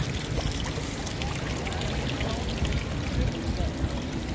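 Water pours in a steady, full stream for face washing on Rotenturmstrasse in Vienna. It is a continuous, moderately loud rush with faint voices in the background.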